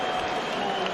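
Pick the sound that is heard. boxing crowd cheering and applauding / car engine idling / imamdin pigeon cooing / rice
boxing crowd cheering and applauding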